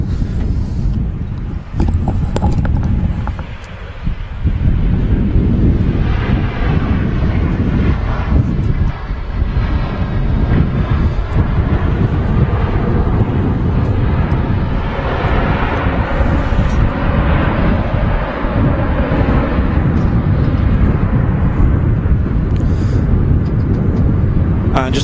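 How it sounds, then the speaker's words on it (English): Ryanair airliner touching down at Manchester Airport, a loud sustained jet roar with shifting engine tones and wind buffeting, a brief dip early on and steady after. "just as that Ryanair has touched down"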